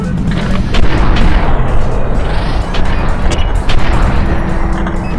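Gunfire in the video game Cobalt Alpha, dense and continuous, with rapid booming shots layered over one another throughout and no pause.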